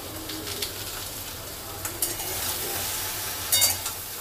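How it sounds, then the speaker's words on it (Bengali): Vegetables seasoned with salt and turmeric are stirred in a frying pan, a soft steady sizzle with occasional scraping taps of the spoon against the pan. "আরও একবার ভালো করে সমস্ত সবজির সাথে লবণ হলুদ মিশিয়ে নিচ্ছি।"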